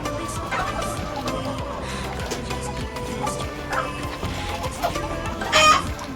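A molting hen clucks steadily against a busy background with a low, droning hum, and one louder squawk breaks out near the end.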